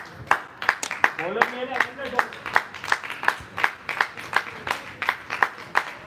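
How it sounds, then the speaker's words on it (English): Spectators at a women's college cricket match clap for the two batters of Team Shanti after their strong opening. The claps are steady, evenly spaced and moderately close, running throughout under a commentator's voice. "Applause to both the batters for the wonderful start that they've given Team Shanti"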